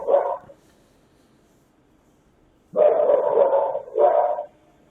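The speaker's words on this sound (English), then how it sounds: "And so the dog continues to bark." A dog barks on a surveillance recording in three short, sharp bursts: one, then a pause of about two seconds, then two close together, all at moderate distance over a quiet, faintly humming background.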